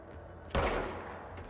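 A gun in the video game Control fires a single sharp shot, close and loud. A short decaying tail follows against a quiet background.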